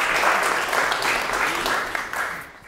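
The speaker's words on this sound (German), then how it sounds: "Ja, Applaus auf jeden Fall." Audience applause at a live podcast recording, steady dense clapping from a crowd that tapers off near the end, with no talk over it.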